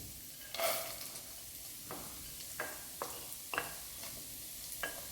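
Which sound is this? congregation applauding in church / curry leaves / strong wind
curry leaves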